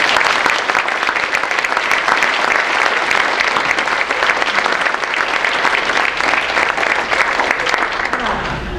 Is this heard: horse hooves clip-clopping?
no